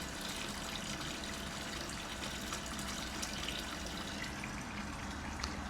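An 18V battery stick pump powered by a DeWalt 9 amp hour XR battery transfers water, giving a steady, even rushing gush with a faint motor hum underneath, moderately close and unbroken throughout.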